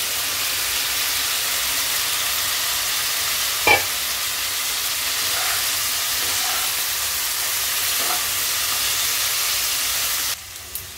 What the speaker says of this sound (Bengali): এবার আমি ভেজে রাখা ভেন্ডিগুলো দিয়ে দিলাম।